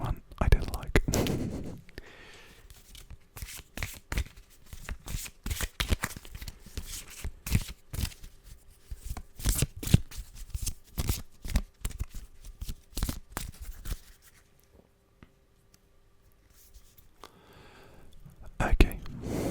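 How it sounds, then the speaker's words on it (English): Cards riffled and shuffled up close, a run of quick crisp flutters and snaps repeating through the stretch, with soft whispering in places. "Let's do some shuffling again."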